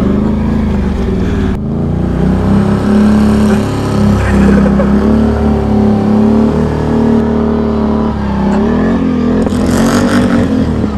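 A car engine revs hard and steadily while the car spins donuts on a frozen ice surface. The loud, close drone rises and falls in pitch, and a faint voice cuts in briefly near the end.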